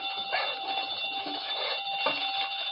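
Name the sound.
burglar alarm ringing on a safe in a radio drama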